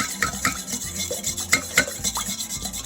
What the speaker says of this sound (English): we're going to begin by just adding the butter and sugar, and we're going to whip that in just until it gets to a nice pale yellow